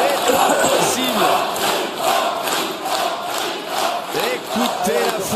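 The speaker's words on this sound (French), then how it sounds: "Écoutez la foule." Pétanque spectators at a France versus Thailand triplette match shout and cheer loudly together, a dense rising and falling roar of many voices that carries on unbroken.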